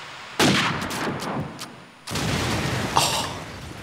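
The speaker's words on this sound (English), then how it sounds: "There's a nade." Grenade explosions in a competitive video game match, two sharp booming blasts each followed by a rumbling decay, loud and near, with brief crackles between.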